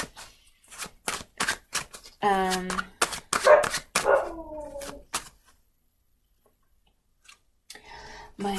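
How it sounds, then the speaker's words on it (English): Household dogs bark indoors in a few close, loud bursts between sharp tapping clicks, then fall quiet. "My dogs are barking"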